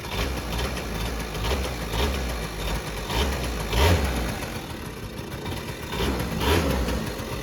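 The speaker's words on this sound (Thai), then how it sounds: "เครื่องดีมากนะไม่ดังเลยนะครับ เครื่องยนต์เป็น2จังหวะนะครับ" A two-stroke dirt bike engine idles with a steady, slightly uneven putter, and the pitch swells briefly a few times. No one speaks.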